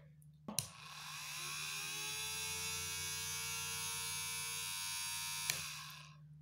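A small battery-powered DC motor with carbon brushes switches on and runs with a steady, close electric whine and hum for several seconds, starting and stopping with brief clicks.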